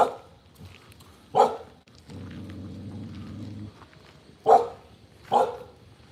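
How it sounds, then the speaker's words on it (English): Big dogs bark in short bursts: two barks early on, a pause filled with a low rumbling noise, then two more sharp barks close together, moderately loud with no talking. "I hate these fucking scary dogs."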